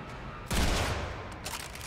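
Double-barrel shotgun blast in the video game Warframe, a single loud burst with a long noisy tail, followed by a fainter second report, with no talk over it.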